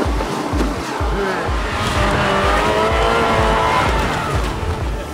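A 2011 Volkswagen Tiguan crossover with a 2-litre 170 hp engine and automatic gearbox pulls away hard, its engine loud and steady with a rough, pulsing roar and a squealing, skidding texture from the tyres.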